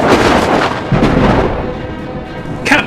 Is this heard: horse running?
no